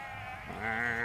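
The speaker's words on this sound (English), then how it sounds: "Listen to the sheep" A sheep bleats in a short radio station jingle, a wavering harmonic call that swells louder toward the end, heard alone without talk.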